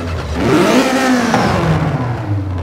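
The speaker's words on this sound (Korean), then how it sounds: "이 차량 같은 경우는 2300cc 엔진이 들어있었죠. 딱 그 정도의 소리가 나는 것 같아요" A car with a 2300cc engine starts up and revs, a loud, close, continuous engine roar rising and settling over about three seconds with no talking.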